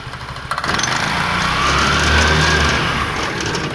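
A Vespa scooter engine kicks in and revs hard, spinning the rear wheel, holding a loud, steady roar close by with a faint whine riding on top.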